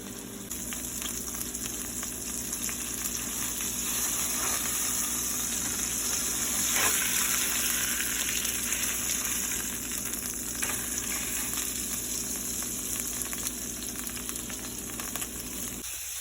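Cod fillet sizzles in a hot pan while pan-searing, a steady dense crackling hiss with small pops, close and continuous throughout with no talk.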